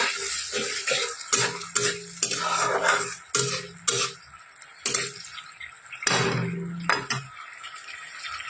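Onions being stirred and sautéed in a pan for an egg curry, repeated scraping strokes and clinks of a spoon against the pan over a soft sizzle, close and fairly loud.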